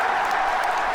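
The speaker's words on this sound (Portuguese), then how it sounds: "os aplausos foram ensurdecedores" Crowd applause from a stadium audience in a video game, a dense, steady wash of clapping and cheering at moderate level, heard throughout with no distinct voices.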